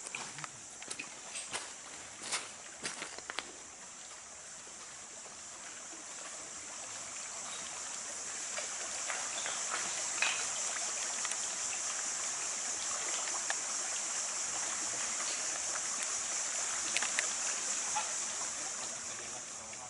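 A river stream flowing while someone walks through or beside it, a continuous watery rush with scattered sharp splashes and steps early on, growing fuller and steadier later, with faint distant sounds.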